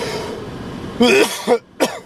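A few sharp coughs up close: a burst of two, then another after a short pause, following a stretch of quiet room noise.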